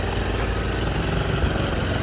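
A motorcycle engine runs steadily at close range after its flat battery was recharged, a continuous buzzing rumble holding even throughout.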